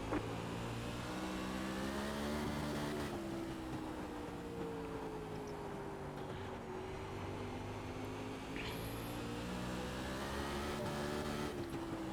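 A sprint car engine in the iRacing video game howls on throttle with a loud, continuous high-revving drone whose pitch rises and falls gently, steady throughout without talk.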